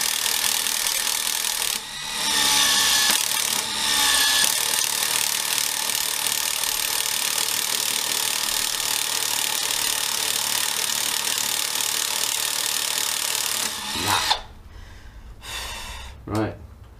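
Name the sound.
Milwaukee 12v drill driving DeWalt bit into wood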